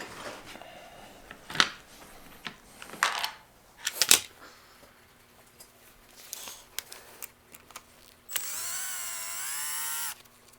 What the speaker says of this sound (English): These two screws go all the way through the carburetor. I'm going to take this whole housing off right now.